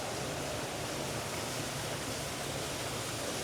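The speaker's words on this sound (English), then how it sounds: "there's a makeshift waterfall there" Steady, even rushing water like a small makeshift waterfall at Frederik Meijer Gardens, heard faintly and continuously with no other sounds or voices.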